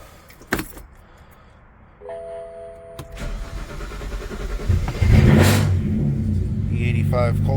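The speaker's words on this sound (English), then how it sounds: "Let's start her up. I hope she starts. You never know with these N54s." Cold start of a BMW 335i with the N54 engine, running on E85: a click and key jangle, a starter whirr, then the engine catches and settles into a loud, close rumbling idle with some revving.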